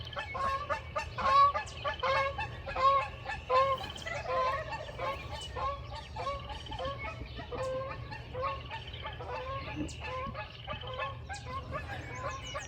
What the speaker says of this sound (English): Geese are coming in.